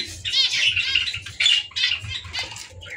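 A pair of lutino cockatiels in a home bird setup, with close, busy wing flutters and scrabbling movement, and short bursts of activity.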